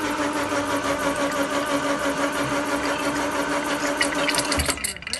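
A freshly rebuilt engine is turned over with a steady, even mechanical whirr and a gurgling undertone, followed by a brief clatter near the end.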